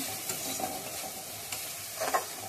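Masala spice paste fries in a pan, giving a soft, steady sizzle with faint scraping stirs and a brief clink near the end, fairly quiet and without talk.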